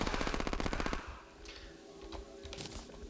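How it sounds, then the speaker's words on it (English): A minigun fires in Terraria: a loud, rapid, evenly spaced stream of shots rattles for about a second, then stops abruptly, leaving softer scattered game effects. "for that minigun, it is loud"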